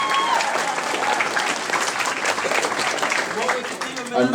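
A convention audience at the Minamicon 30 closing ceremony breaks into loud, sustained applause and cheering that fills the room throughout.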